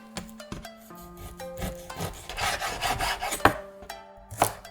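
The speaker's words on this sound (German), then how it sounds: "Und dann das Fleisch in grobe Stück schneiden." A knife cuts boned pork knuckle (Eisbein) into coarse pieces for a Chinese-style aspic, giving close, irregular scraping and chopping strokes against a board, with sharp taps mixed among rubbing slices.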